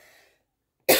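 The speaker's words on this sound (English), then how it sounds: "I'm going to cough. Give me a second." A single short, sharp cough bursts out near the end, close and fairly loud, after a faint trailing sound and a moment of silence.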